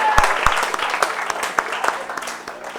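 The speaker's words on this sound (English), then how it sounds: "Let's give the speaker a round of applause." An audience at a speech festival opening ceremony in Grenada claps for a speaker, a fairly close burst of scattered applause with distinct individual claps and some voices mixed in.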